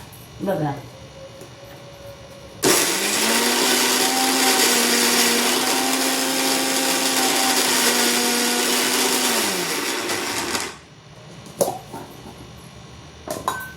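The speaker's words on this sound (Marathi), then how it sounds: "मी आता मिक्सरवर तुम्हाला बारीक पण करून दाखवते" A mixer grinder blends raw mango chutney in one steady, loud run of about eight seconds, its motor whine holding pitch before spinning down, with quiet kitchen handling before and after.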